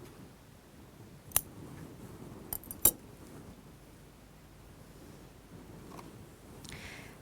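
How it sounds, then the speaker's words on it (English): Scissors trimming sewing thread during hand stitching of a dress facing: two or three faint close snips and clicks against quiet room tone, no talking. "And if you like, you can trim your thread."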